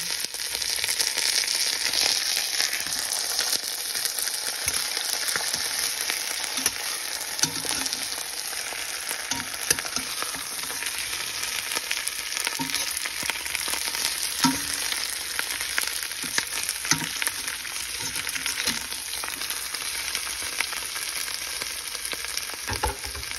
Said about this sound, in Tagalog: Ilagay naman natin yung tilapia.